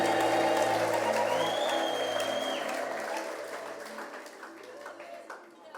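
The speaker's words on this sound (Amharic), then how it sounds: "ከሙዚቃው ጋር ጨምሮ ለጌታ እልልታ ጭብጨባ ሃሌሉያ" A church congregation claps and ululates in praise during a gospel worship song, a loud sustained burst of applause with a rising trill that gradually fades over the last seconds, music and voices underneath.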